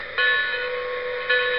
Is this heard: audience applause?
no